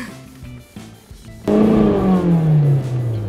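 A car engine rises sharply into a loud, sustained rev, its pitch sliding slowly downward as it holds, following quieter mechanical rumbling and clicks.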